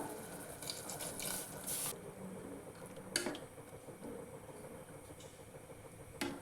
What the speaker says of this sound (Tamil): கொஞ்சமாக தண்ணீர் சேர்த்துக்கோங்க தக்காளி முழுகுத அளவுக்கு மட்டும் தண்ணீர் சேர்த்தா போதும்